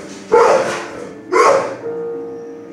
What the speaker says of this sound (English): This is a 5-month-old puppy.